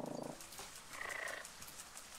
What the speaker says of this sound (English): You can kind of hear the purring.